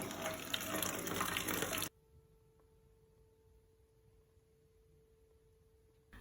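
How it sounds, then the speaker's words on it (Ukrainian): Chicory kvass pours into bottles as a steady, fairly loud splashing rush for about two seconds, then stops abruptly and leaves only a faint background hum. "Розливаємо по пляшках і ставимо охолоджувати."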